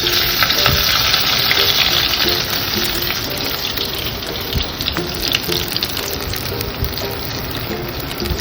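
Jackfruit pieces deep-fry in plenty of hot oil, a loud close continuous sizzle and bubbling crackle with occasional stirring clinks.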